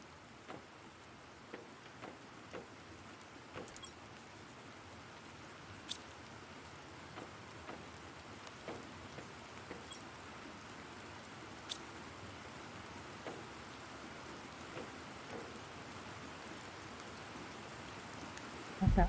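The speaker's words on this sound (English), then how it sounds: "Ooh, the rain. And there's our rain." Steady, fairly faint rainfall in The Planet Crafter video game, a soft continuous patter with scattered sharper drop ticks throughout and no talking.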